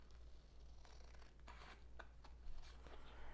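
Scissors snip paper cutouts for a fitness vision board, several short close cuts and rustles sounding quietly over a low steady hum.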